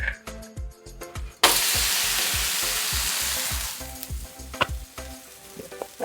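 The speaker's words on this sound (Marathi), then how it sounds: "पॅन मध्ये थोडंसं तेल टाकून घेऊया। हे पॅन मध्ये टाकून घेऊ।" Thalipeeth placed into hot oil in a pan, bursting into a loud, close, continuous sizzle after a moment of quieter tapping, then settling into steady frying with a few small clatters.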